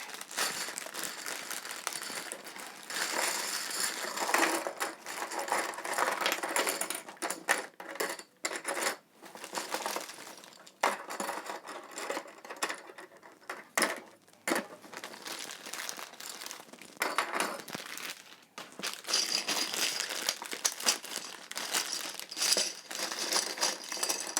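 Plastic board game pieces are handled and sorted out of a freshly opened box, giving close, continuous rustling, crinkling and light clicking with brief pauses throughout.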